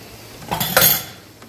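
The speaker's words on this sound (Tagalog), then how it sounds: "Lagyan lang natin siya ng halo." A brief spoon-and-pan scrape and clatter rises from ground pork giniling being stirred in a pan, a short close burst of metal on metal with no voices present.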